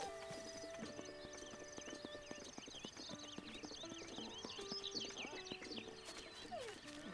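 Video game horse hooves clip-clop in a quick rhythm, joined by a whinny and faint birdsong, all moderately loud with no talk.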